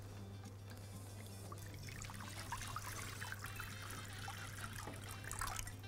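Water trickles and pours into a large plate being set up for steaming a sponge pudding, a soft steady dribble close by over a low kitchen hum.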